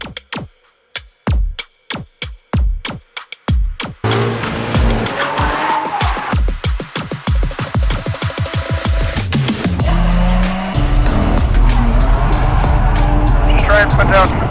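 A drift car is driven hard on track during practice at a pro-am drifting competition. Clicks and bursts at the start lead into a loud, sustained engine roar with tire squeal and skidding that builds to a dense, constant howl.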